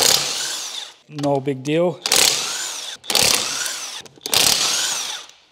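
An impact wrench rattles wheel nuts tight on a VW Golf R32 fitted with ultra high performance tyres, firing in four loud, close bursts of about a second each, with someone speaking briefly between them.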